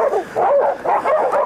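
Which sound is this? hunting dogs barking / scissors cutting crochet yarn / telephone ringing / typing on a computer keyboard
hunting dogs barking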